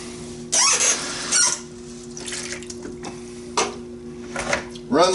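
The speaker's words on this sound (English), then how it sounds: "Run some water through it while you try to get rid of any remaining goo." Water runs through a strainer to rinse fermented tomato seeds, coming in short loud splashing bursts and trickles between quieter pauses, up close in a kitchen sink with no talking.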